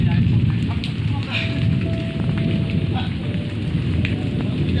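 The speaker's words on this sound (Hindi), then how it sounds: "इतना जोर का बारिश हुआ है, हवा पानी चला है ना" Heavy rain falls over fields after a strong storm with wind, a dense, close, continuous hiss and patter with gusty rumble underneath; brief voices can be heard through it.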